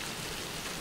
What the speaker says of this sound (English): the rain started so quickly